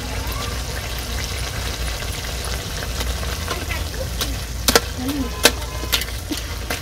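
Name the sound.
fish frying in a pan for shukto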